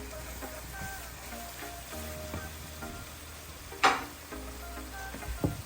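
Spice powders such as coriander powder and chillies sauté in a pan for a Kerala-style tomato curry, giving a low steady sizzle with stirring scrapes and one sharp utensil clink partway through.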